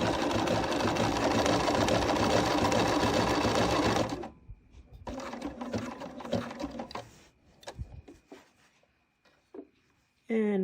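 Sewing machine stitching appliqué onto a quilt block: a loud, steady mechanical whir for about four seconds, then quieter start-and-stop runs of stitching with gaps between.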